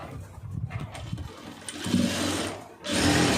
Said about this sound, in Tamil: இப்போ நான் வந்து மடக்கி அடிக்க போகிறேன்